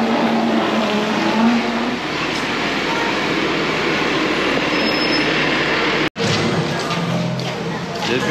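A bus rolls up at a Disney resort stop in a steady, loud vehicle rumble with road and engine noise, people talking over it.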